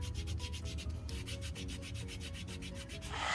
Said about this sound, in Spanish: con el raspador vamos a estar raspando el área para quitar las impurezas